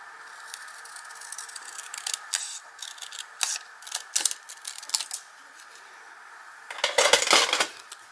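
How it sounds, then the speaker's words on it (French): Scissors snipping through paper while crafting a bullet journal, a close, quiet series of irregular crisp cuts and small clicks, ending in a denser flurry of snips. "Je vais faire avec les ciseaux."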